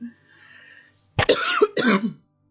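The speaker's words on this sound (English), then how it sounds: "Apologies for coughing." A few sharp coughs in a quick burst, a short pause, then another cough cluster, loud and close, after a quiet stretch with faint background noise.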